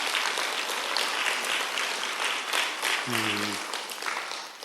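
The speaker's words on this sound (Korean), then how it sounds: "박수로 감사를 표현합시다" Congregation applauding in a church, steady dense clapping throughout, with a brief low hum partway through.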